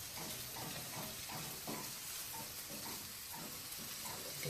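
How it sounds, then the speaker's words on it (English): Food paste cooking in a pot on the stove, a steady close sizzle and hiss with soft scraping and stirring strokes running throughout, with no talk. "Give that a good stir."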